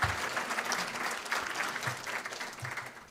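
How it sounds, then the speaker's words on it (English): Audience applause at a civic gathering, a steady wash of many hands clapping, fairly loud and close, continuing without a break for the whole stretch with no clear talk over it. "So again, give them a round of applause"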